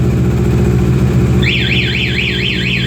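A Kawasaki ER6N motorcycle idles steadily up close, then its anti-theft alarm bursts in halfway through with a loud, rapidly warbling electronic siren that keeps going over the engine's low rumble.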